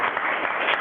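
Applause at a village board meeting, a steady dense wash of clapping from the room audience lasting under a second, moderately loud with no break.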